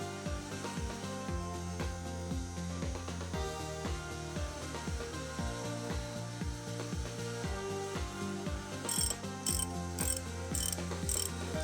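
Spanner turning a locked pair of nuts to undo an exhaust manifold stud on an R380 gearbox refit, heard as close, repeated ratcheting clicks in a steady rhythm, ending with a few sharper metallic ticks.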